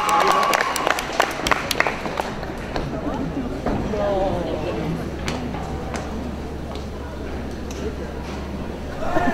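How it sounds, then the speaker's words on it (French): An audience claps loudly for a costumed Flynn Rider character at a show, a burst of applause that fades into scattered claps with a voice speaking over it. "Applaudissez très fort Flynn Rider."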